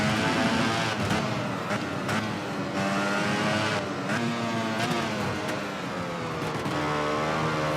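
A Ducati racing motorcycle engine in the VR46 MotoGP racing game, loud and continuous, revving and shifting through gears with rising and falling pitch throughout.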